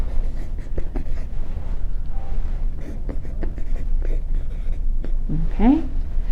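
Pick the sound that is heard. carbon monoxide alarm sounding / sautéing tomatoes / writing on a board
writing on a board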